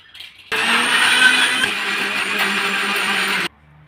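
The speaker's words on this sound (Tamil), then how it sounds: "இது வந்து ஃபஸ்ட்டு வந்து மிக்ஸி ஜாரில் போட்டு அரைச்சிட்டு வந்துடலாம்." A kitchen mixer grinder whirs steadily for about three seconds, grinding a jar of shallots, garlic, ginger, spices and tomato, starting and stopping abruptly, close and loud with no talk.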